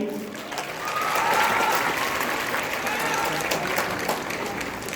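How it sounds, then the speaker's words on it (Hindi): An audience at an annual institute function in Patna claps for Vikram, a dense, sustained round of applause that swells and holds steady, filling the hall. "Give a big round of applause for Vikram. Vikram के लिए जोरदार क्लैपिंग।"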